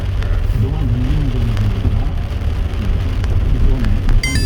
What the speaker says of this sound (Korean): 오늘 이제 비가 와서